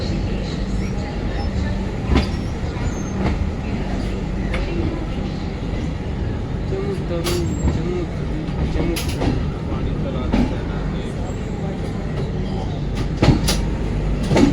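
The Garib Rath Express passes close by, a dense, continuous rumble and roar of rolling stock with scattered clicks and knocks over about fifteen seconds, and faint talk mixed in.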